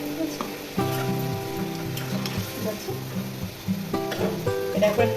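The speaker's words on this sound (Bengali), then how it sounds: "এটা একটু নেড়ে চেড়ে নেবো আর একটু হালকা সেদ্ধ হতে দেবো" Pointed gourd and poppy seed curry (potol posto) is stirred in a pan, giving a bubbling sizzle and scraping strokes beneath a tuneful musical backing.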